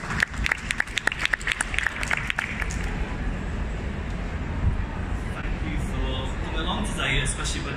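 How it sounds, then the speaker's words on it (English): Audience applause welcoming a speaker to a presentation on metacognition in a busy arena, clapping loud and dense at first, then fading into crowd murmur and room noise. "Can we give him a round of applause, please?"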